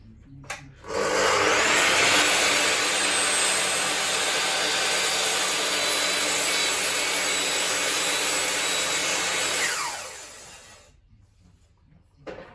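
A powerful power tool with dust extraction cuts through a timber sleeper on a fencing job: a loud, steady roaring whine starts abruptly, holds for about nine seconds, then winds down and stops.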